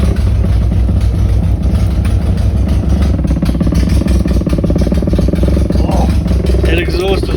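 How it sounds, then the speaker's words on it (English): A Mini car's engine runs with a noisy exhaust, a loud, close rumbling chug that continues throughout with a rough, clattery pulse and some faint background voices. "That exhaust was noisy."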